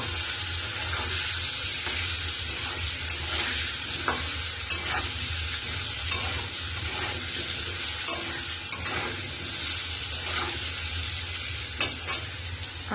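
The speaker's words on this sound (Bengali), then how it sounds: "তো আলুগুলো লাল লাল করে ভেজে নেব।" Potatoes with salt and turmeric frying in a pan until browned, a loud, steady close sizzle with regular spatula stirs and scrapes clicking through it, no voices.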